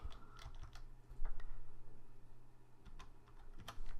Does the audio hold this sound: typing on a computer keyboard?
yes